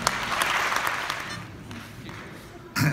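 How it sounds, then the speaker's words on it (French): Applause from a gala audience at a French magicians' congress opening in Nancy, greeting a bronze medal recipient; a moderate, steady wash of clapping that thins out, with a voice returning near the end. "Je voudrais que vous fassiez un tonnerre d'applaudissements pour Claude Gilson"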